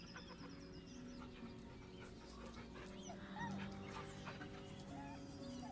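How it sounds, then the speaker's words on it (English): A dog whimpers nervously in the video game Baldur's Gate 3, a series of short, high whines and soft yips over a quiet ambient backdrop. "The dog whimpers nervously, as if to urge you on."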